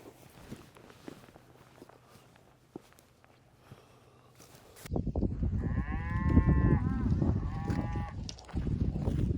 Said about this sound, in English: Cows tend to know what time of year it is.